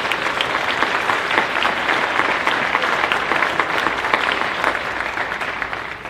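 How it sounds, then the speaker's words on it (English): Sustained applause from a large crowd at an athletic recognition ceremony honoring student athletes and coaches, steady dense clapping throughout that eases slightly at the very end. "So a round of applause for our current student athletes and coaches."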